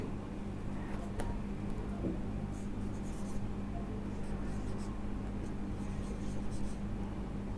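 Writing during a chemistry lecture on the structure of matter, with faint scratchy strokes under a steady electrical hum and room noise.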